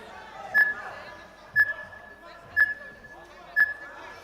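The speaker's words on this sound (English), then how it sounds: "so you can hear the 20-second timer running in the background." A 20-second timer beeps during a youth MMA championship bout, four short, sharp electronic beeps spaced about a second apart over faint arena background noise.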